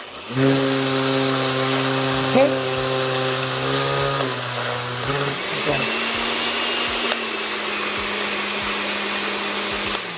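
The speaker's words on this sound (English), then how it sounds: "we're going to try and blend without the water" A blender whirs loudly as it purees watermelon with no water added, a steady motor drone whose pitch drops partway through as the load shifts, with a brief spoken word.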